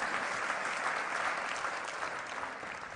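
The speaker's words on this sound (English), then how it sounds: "Give him a round of applause because he's going to join me on stage." An audience at a communication talk applauds in a dense, even wash of clapping that holds steady throughout, moderately distant in a large room.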